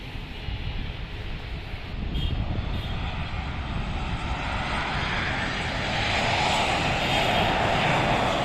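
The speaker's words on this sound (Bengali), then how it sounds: "এগিয়ে আসছে ওমান এয়ারলাইন্সের বোয়িং 737 ম্যাক্স।" An Oman Air Boeing 737 MAX on approach to land at Dhaka, heard from near the runway at Uttara. Its jet roar is broad and steady and grows gradually louder as it nears.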